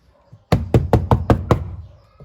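A run of six sharp, evenly spaced knocks on the hard plastic door trim of a 1989 Chevrolet Monza Classic SE, close and hollow-sounding. A quiet pause comes before the knocks and a faint tail follows them.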